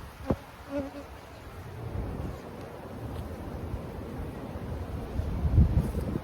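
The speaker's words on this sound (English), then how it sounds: "on, bees, get out of the way." Steady buzzing of many honey bees close by during a hive split, a dense droning hum with a faint wind rush underneath and a soft knock near the start.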